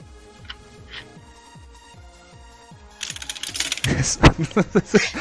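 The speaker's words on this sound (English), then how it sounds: "Mad typing." Fast typing on a computer keyboard, a quiet patter of keystrokes that grows into a louder, denser run of clacks toward the end, with no talk.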